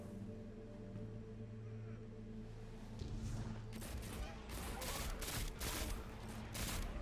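Rifle gunfire in the video game Destiny 2, a rapid run of sharp shots over a steady game hum, starting about halfway through and continuing to the end.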